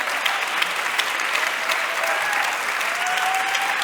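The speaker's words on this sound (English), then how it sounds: "please give Alex and Mary a big round of applause" An audience claps warmly for two speakers at the close of a talk on beautiful spaces, a dense, even wash of applause from a sizable crowd lasting throughout, with a few sharper nearby claps.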